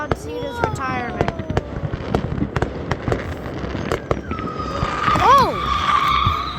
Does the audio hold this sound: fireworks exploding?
yes